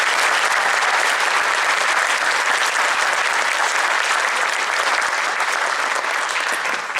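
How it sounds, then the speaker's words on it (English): An audience at a junior high honor band concert applauds loudly and steadily, a dense wash of clapping that carries on without a break and fades slightly at the end. "Can you give them a round of applause?"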